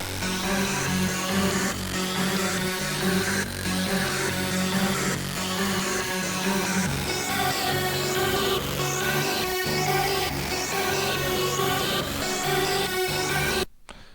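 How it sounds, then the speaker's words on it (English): A thick, layered synth plays a melody over dense, bright chords, steady and full, then cuts off abruptly at the end. "This is another synth that I wanted to use to fatten up the melody"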